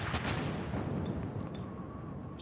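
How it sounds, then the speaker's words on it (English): A rocket launcher fires in Garry's Mod: a sharp, loud blast at the start that rumbles and fades over the next couple of seconds. "Rocket launcher."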